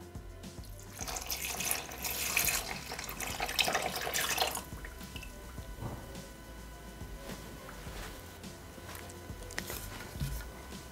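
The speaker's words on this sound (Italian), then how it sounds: "Aggiungere il succo di arancia" Orange juice is poured into a Thermomix bowl for orange syrup, a splashing, hissing liquid stream that swells for a few seconds, then eases into quieter drips and small clatters.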